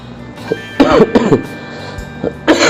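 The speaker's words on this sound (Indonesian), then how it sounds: "Maaf, batuk." A few harsh coughs and throat-clearing bursts come close and loud, in short irregular fits.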